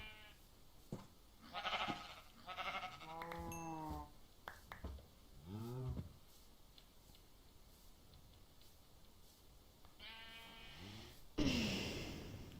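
Sheep in Minecraft bleat in a series of short, wavering game calls, several in quick succession early on, then a quieter pause, then another bleat before a burst of noise at the end.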